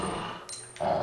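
Dogs in the Resident Evil 2 Classic video game give a brief, low, moderately quiet growl over a droning game soundscape.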